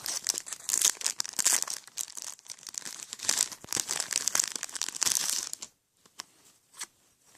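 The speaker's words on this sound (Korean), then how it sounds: "먼저 덤부터 덤 덤부터 뜯어볼게요." Close crinkling and tearing of plastic packaging as a bag of ball-jointed doll clothes is ripped open, steady rustling bursts that thin out to a few faint crackles near the end, with no talking.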